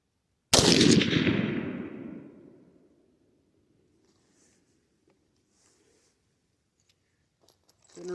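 A single sharp gunshot from an H&R Ultra Varmint .223 rifle, loud and close, with a long echoing decay trailing off over about two seconds, followed by near silence and faint handling noises.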